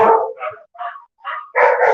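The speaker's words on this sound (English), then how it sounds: "These are pretty big ones here. They're like 50 pounds. Pretty big dog." Several barks from a large pointer-type dog at a humane society shelter in Honolulu, coming in loud, close bursts with short gaps between them and no talking over them.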